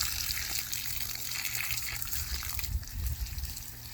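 Water pours and trickles steadily for a few seconds onto soil around a potted tree, a soft continuous splashing gush close by with no voices.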